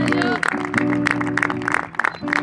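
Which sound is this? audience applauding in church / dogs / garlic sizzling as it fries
audience applauding in church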